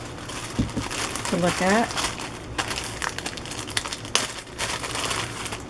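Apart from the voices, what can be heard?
little plastic bags of trims being handled, crinkling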